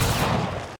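A single loud, close gunshot from an enemy player in Hunt: Showdown, a sharp blast with a heavy low boom that decays briefly before cutting off.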